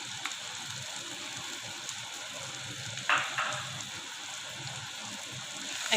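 Mustard paste hits hot oil with cooked onion masala, giving a continuous hissing sizzle and a brief sharper spatter partway through.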